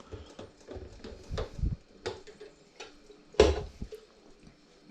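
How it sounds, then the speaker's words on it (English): A bottle is unscrewed from an Aarke Carbonator sparkling water maker with a few close plastic clicks and knocks and one sharper clatter, with no talking. "so let's just unscrew it there."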